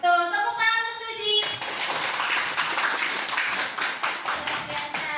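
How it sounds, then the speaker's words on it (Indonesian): Classmates in a grade 9 classroom applaud a student: a burst of quick, dense hand clapping that starts abruptly after a short spoken line and keeps going steadily to the end. "Tepuk tangan untuk Suci"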